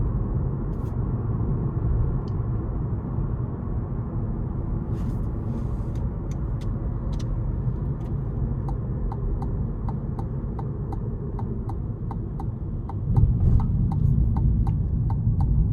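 Cabin view of a 2027 Chevy Bolt LT electric car accelerating in sport mode: a steady low road and tire rumble with scattered light clicks, swelling louder toward the end, with no one talking.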